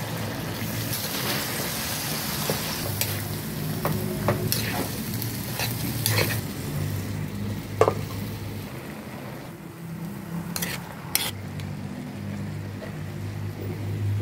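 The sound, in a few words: string beans stir-frying with pork and vegetables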